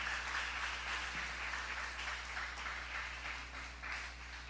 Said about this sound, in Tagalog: Pwede ba nating palakpakan ang dakilang Diyos natin,